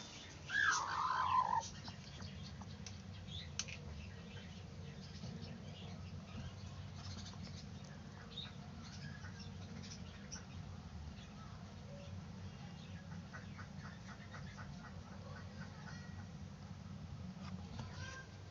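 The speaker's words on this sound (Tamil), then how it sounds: "கோழி குஞ்சு சவுண்டு கேட்குது." A chick peeps from inside a freshly laid hen's egg: a short, shrill chirp near the start, then only faint traces over a steady low hum.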